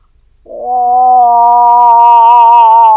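A person imitates the drawn-out call of a female elk in heat in a wetland national park in Estonia. The call is a single loud, close, tonal moan that rises and then holds steady, with no other voices.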